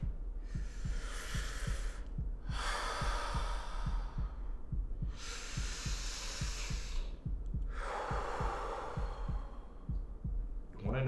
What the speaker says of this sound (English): Alright, take some deep breaths.